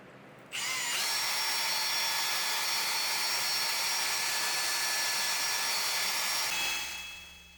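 An electric drill with a mixing paddle stirs epoxy in a bucket for recoating a garage floor, starting abruptly and running as a loud, steady whine for about six seconds before winding down.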